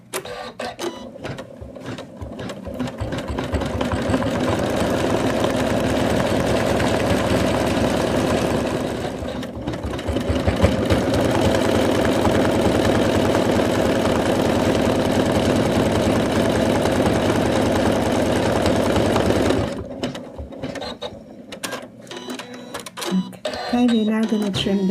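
A home embroidery machine stitches in the hoop to tack fabric onto an in-the-hoop Santa doll, a steady, loud, fast mechanical whirring that runs nearly the whole time with a short dip midway and stops near the end, with a voice talking over it.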